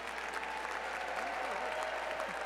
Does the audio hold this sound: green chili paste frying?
no